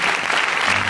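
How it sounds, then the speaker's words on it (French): A concert audience applauding the stage crew during a show, a loud, dense burst of clapping filling the whole moment without pause. "on peut applaudir très très fort"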